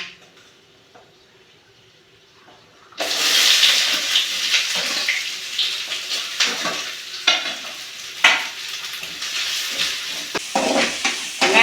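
Onions hit a hot pan for a country chicken curry, bursting into loud sizzling and frying after a quiet start, with scraping stirs and sharp crackles throughout.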